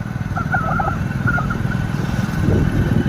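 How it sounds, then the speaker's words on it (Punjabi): A motorcycle engine putters steadily at close range as it rides along, rising slightly toward the end, with faint chirps in the background. "ਬਾਬੇ ਮੋਟਰਸਾਈਕਲ ਵੀ ਚਲਾ ਲੈਂਦੇ ਆ"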